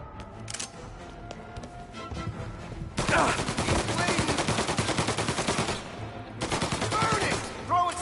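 Mafia shootout gunfire, rapid automatic bursts hammering in two long volleys after a few scattered single shots, loud and close, with someone shouting between them.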